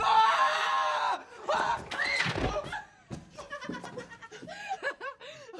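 Frightened screams at someone wearing a mask: a sustained high, loud shriek opens the scene, then gives way to gasping, laughter and excited speech.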